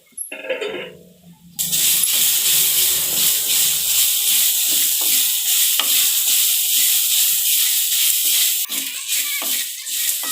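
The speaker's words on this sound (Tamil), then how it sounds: "அதை வதக்கிட்டே இருங்க ஒரு ஃபைவ் மினிட்ஸ் அளவுக்கு" Radish sautéing in a pan as the water cooks out, with a steady close sizzle and hiss broken by occasional stirring scrapes, continuous for about ten seconds after a quieter opening.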